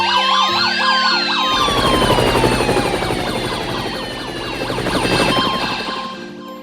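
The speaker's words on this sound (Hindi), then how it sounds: "हम तुरंत मदद भेज रहे हैं। फायर फाइटर, पुलिस, एम्बुलेंस और हेलीकॉप्टर।" Several emergency vehicle sirens wail and overlap, fire engine, police car and ambulance together, their rising and falling tones layered loudly over a low rumbling drone in an animated rescue scene.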